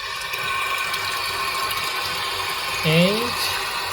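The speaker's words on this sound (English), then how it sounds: "so next I will take this phone to my bathroom and let the Doogee 80 Pro have a shower." Water from a bathroom shower sprays onto a Doogee S89 Pro rugged waterproof phone, a steady hissing rush that carries through, with a brief electronic chirp near the end.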